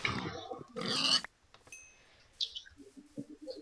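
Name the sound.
pig oinking in Minecraft video game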